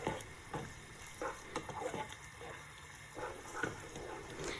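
Onion and tomato sauce being stirred in a soup pot for Turkish ezogelin soup, a quiet scraping and sloshing repeated in irregular strokes, with faint sizzling underneath.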